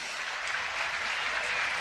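Audience applause at a table tennis event honouring a 2020 French champion, a dense, even wash of clapping for a couple of seconds, fairly faint and heard alone.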